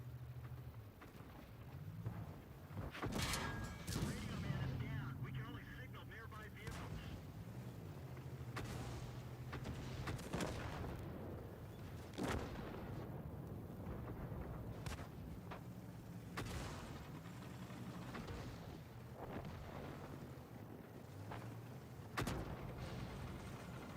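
Tank cannons firing high-explosive rounds in World of Tanks, a string of sharp booming shots spread over a steady low engine rumble, some close and loud, others fainter, with no talking.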